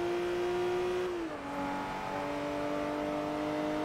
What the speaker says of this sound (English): This is a beautiful sounding engine